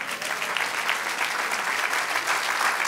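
A church congregation applauds steadily, a dense, even wash of many hands clapping together throughout.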